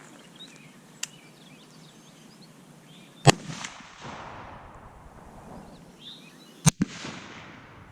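Rifle shots fired at a target outdoors, two sharp loud cracks a few seconds apart, each with a short echo, plus one faint distant pop, over quiet background with faint birds and insects.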